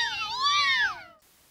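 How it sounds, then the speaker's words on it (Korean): A single cat meow, close and clear, rising then falling over about a second before cutting off into near silence. "고양이."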